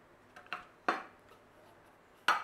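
Small metal pie tins, buttered for mini pork pies, clatter in a few separate bright knocks: two light ones early, a sharper clank near one second, and a final loud clink, with quiet gaps between and no voices.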